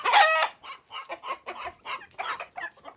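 Chickens in a family's rural yard cluck in a quick series of close, fairly loud bursts, with short pauses between calls and no talking.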